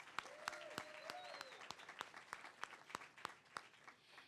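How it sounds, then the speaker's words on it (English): Small audience clapping at a press conference, sparse individual claps at an even pace, quiet and somewhat distant, with a faint voice briefly audible early on. "let's give her and her whole team a round of applause"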